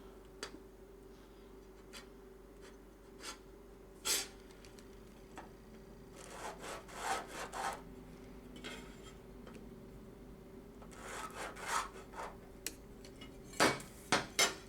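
A knife cuts into a watermelon during carving, making sparse clicks and soft scraping taps against the rind, with a busier run of cutting sounds midway and a few sharper knocks near the end, close and fairly quiet.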